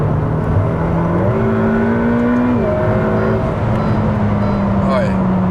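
A Ferrari F8 Spider accelerates hard with its engine note rising through several upshifts, loud and steady throughout, while people talk over it.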